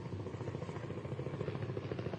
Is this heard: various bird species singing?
no